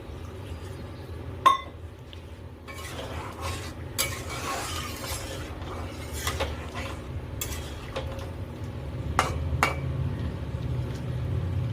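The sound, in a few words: pouring water into chilli chicken to make gravy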